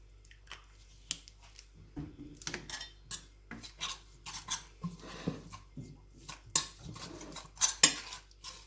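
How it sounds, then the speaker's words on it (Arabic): Cutlery scrapes and taps against a dish while a spice marinade for salmon is stirred and mixed, irregular close scraping and clinking strokes with soft wet squishes, no talk. "صافي نخلط هادشي مزيان."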